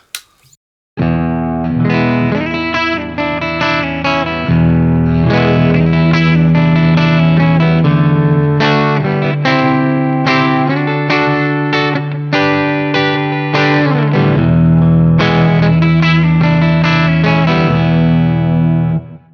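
A Fender JV Modified Telecaster with both pickups together plays a distorted riff of chords and single notes with a thick, bright tone and some chorus shimmer, loud and continuous.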